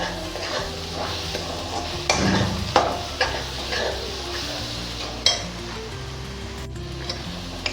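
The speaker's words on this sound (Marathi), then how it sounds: "हे मसाले चांगले तेलात चांगले परतून घ्यायचे" Pav bhaji spices, including red chilli powder and garam masala, sauté in oil with a low sizzle under repeated scrapes and clinks of a utensil against the pan, heard up close.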